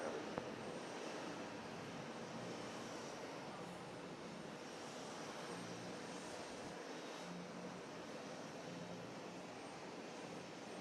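An Air France airliner at JFK airport makes a faint, distant engine drone that holds steady throughout, low and continuous with no voices over it.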